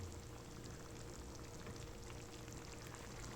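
Squid adobo (adobong pusit) sizzles steadily in a hot pan, a soft, even frying hiss that carries on without a break and with no voices.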